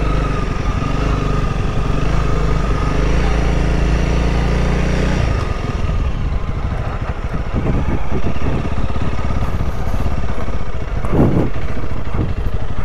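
A Honda CRF300L motorcycle engine runs loud and close, a steady rough drone that drops in pitch partway through as the bike rides slowly around.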